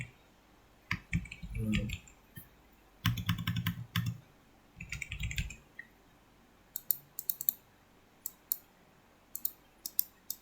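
Computer keyboard typing in a quiet room, with scattered irregular bursts of clicky keystrokes, some rapid runs and some single taps, at close range and with no talking.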